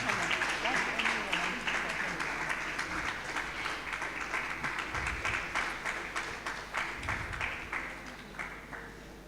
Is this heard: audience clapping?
yes